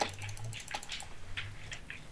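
Fast, irregular clicks of a computer keyboard during a Minecraft UHC match on Hypixel, close up and fairly loud, with bursts of keystrokes clustered in quick runs.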